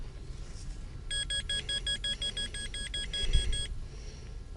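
Metal detector on a small beach giving a rapid run of regular electronic beeps over faint outdoor background noise, close by and moderately loud.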